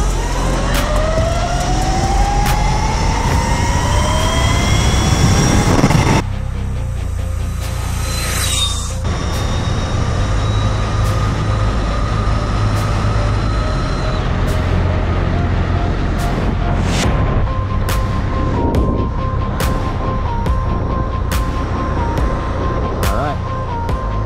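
A TruMoto electric bike with a VESC controller launching in drag mode, a loud, steady motor whine rising in pitch over a long pull, with wind roar throughout.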